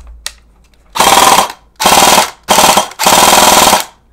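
Matrix Special Edition airsoft AK electric rifle run on an 11.1 V LiPo battery, firing four rapid full-auto bursts of sharp mechanical clatter after a single faint click, loud and close with short pauses between bursts.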